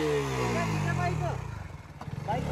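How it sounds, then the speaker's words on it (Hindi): A motorcycle at a stunt spot, its engine turning over with a falling drone and then a pulsing low idle, heard close under someone talking. "बाइक स्टार्ट हो रही यार"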